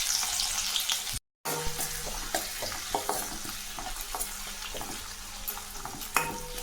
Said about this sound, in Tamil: இந்த வெங்காயம் நல்லா செவந்து வர மாதிரி வதக்கலாம்